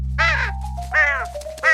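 Three loud, harsh caws from a cartoon crow, each about a third of a second long and evenly spaced, set over a steady low hum with no talking.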